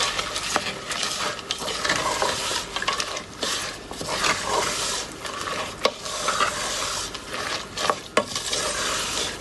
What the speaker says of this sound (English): Give it a good stir together.